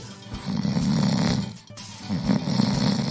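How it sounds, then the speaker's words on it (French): An ogre in a cartoon fairy tale snoring loudly, two long rumbling snores with a brief breath between them, close and alone. "Bientôt, ses ronflements faisaient trembler les murs."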